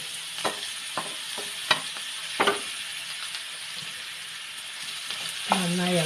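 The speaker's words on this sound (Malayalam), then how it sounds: "നന്നായി ഇളക്കി കൊടുക്കാം." Jackfruit thoran stir-frying in a pan, a steady soft sizzle broken by several distinct scraping clinks of a spoon stirring, with a brief voice near the end.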